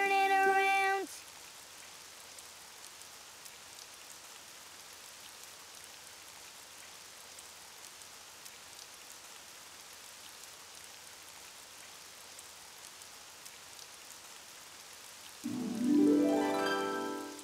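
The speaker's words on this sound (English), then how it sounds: "Oh, it's raining outside." Steady rain patters outside in a children's cartoon, a soft continuous hiss running throughout, with brief musical or voiced sounds at the start and near the end.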